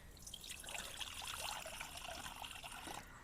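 About a glass of water is poured into a metal pot, making a steady, fairly soft trickle and splash that lasts around three seconds with no talking.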